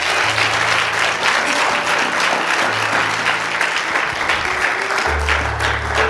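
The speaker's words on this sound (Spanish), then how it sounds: "Dale un aplauso a Cristo." A church congregation claps steadily and loudly during a worship service, a sustained wash of applause with low musical tones sounding underneath.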